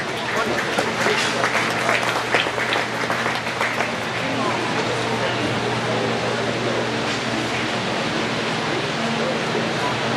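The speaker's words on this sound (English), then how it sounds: "Let's give them all a nice round of applause." Spectators at a county fair beef show in Cherokee County applaud the exhibitors, a rushing wash of clapping strongest in the first few seconds, then settling into a steady murmur, with a voice speaking over the hall.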